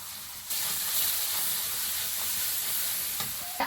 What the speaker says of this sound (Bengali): আর কটা রসুন কুচি একটু রসুন বাটা ছিল ওটাও দিয়ে দেবো